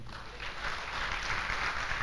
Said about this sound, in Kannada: ಸುಮ್ಮನೆ ಚಪ್ಪಾಳೆ ಹೊಡೆದ್ಬಿಟ್ರಿ.